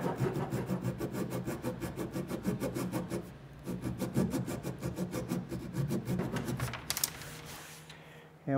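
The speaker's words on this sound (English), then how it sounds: "now that the glue has all dried on these bungs, I'm going through with my small pull saw here and" A small pull saw cuts glued wooden bungs flush on a wooden boat's coaming, giving steady, rapid rasping strokes up close, then a brief pause and a few final scrapes.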